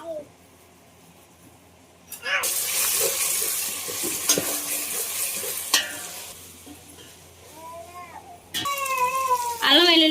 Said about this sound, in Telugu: అల్లం వెల్లుల్లి పేస్ట్ అనేది పచ్చివాసన పోయేంత వరకు బాగా ఫ్రై చేసుకోవాలి.